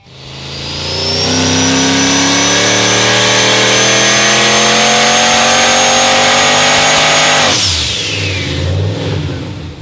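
A small block V8 powered Holden VF revs hard to about 10,000 RPM, a loud, sustained rising scream held for several seconds before the revs drop off sharply and the engine settles.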